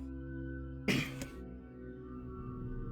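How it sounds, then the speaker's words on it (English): A single brief throat clearing sounds near the middle, a short rough burst over steady background music from the NieR video game on Xbox 360. "Just clearing my throat, preparing for more there."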